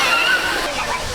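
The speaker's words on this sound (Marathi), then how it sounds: "आता चाललोय धबधब्यावरती. जिथं पाणी येतंय ना जोरात तिथं जाणार आहे." Rushing water at the Manudevi temple waterfall near Bormal, Soygaon, pours in a loud, continuous wash of sloshing noise with no break.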